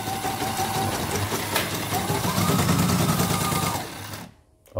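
A YOKO embroidery machine, unit 5, runs on a test after a repair for a slipping bobbin case, giving a fast, steady mechanical whirring and rattling drone that cuts off abruptly near the end.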